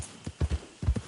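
Horse hooves clip-clop in an uneven gallop rhythm while riding in Red Dead Redemption 2, with several close, loud hoof strikes in quick pairs.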